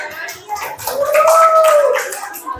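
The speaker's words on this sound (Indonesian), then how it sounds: "Give applause for our friends" Applause breaks out in a classroom, a burst of many hands clapping together that swells and then fades. A voice and excited chatter mix in with it.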